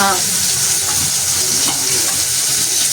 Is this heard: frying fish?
yes